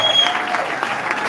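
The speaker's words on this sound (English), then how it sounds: "Now applause for this man." Brief, loud crowd applause for a man being honored on stage, thick continuous clapping with some background crowd noise.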